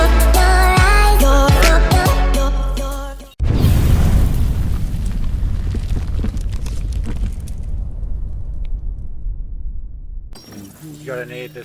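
A grenade detonates in the shooter game The Division 2, a sudden heavy boom with shattering debris followed by a long rumbling decay, set amid music and voices.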